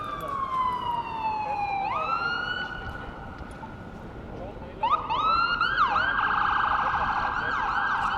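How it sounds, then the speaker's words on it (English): An ambulance siren wails along Bay Street in downtown Toronto on a December night, its rising and falling tone sweeping through several cycles, fairly close and loud over steady city traffic noise. "There's an ambulance making its way down"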